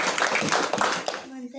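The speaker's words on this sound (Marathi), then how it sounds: "टाळ्या घ्या" Schoolchildren at ZP School Patherde clap together briefly, a quick close patter of hands that stops abruptly, with a voice speaking.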